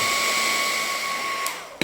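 A hot air gun for plastic welding blows with a steady, whining fan hum and a constant airy hiss, close and continuous, ending with a brief click.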